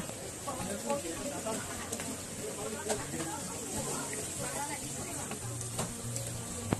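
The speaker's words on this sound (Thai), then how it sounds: "เขาก็จะเอาพวกไก่แฮมไส้กรอกหรือว่าไข่ขึ้นมาทอดบนกระทะข้างบน" Chicken, ham, sausage or egg sizzling on a griddle pan at a street food market stall, a steady crackling hiss with bursts of stirring, under busy background chatter.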